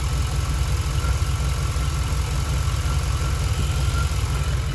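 A truck engine with TBI fuel injection idles steadily, a constant low rumble with an even, slightly rough pulse that holds at the same level throughout, close to the microphone and with no voices.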